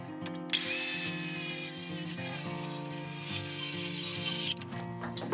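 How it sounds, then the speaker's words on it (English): A power saw cuts into a wooden deck stair stringer, giving a loud, sustained high-pitched whine with a grinding edge for about four seconds before it winds down. "So this kind of saw I'm using has a blade that I can actually push out into the workpiece."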